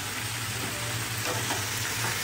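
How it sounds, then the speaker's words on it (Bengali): Onion greens, potato, peas and a little cauliflower fry together in a pan, giving a continuous, even sizzle close up with no talking. "পেঁয়াজ কলি, আলু, কড়াইশুঁটি আর ফুলকপি ভাজা একসাথে হচ্ছে"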